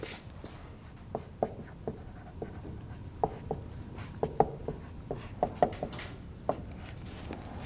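A lecturer sketches a life cycle diagram, the pen or chalk making quiet scratchy strokes and sharp taps in an irregular rhythm, close and soft in a quiet room.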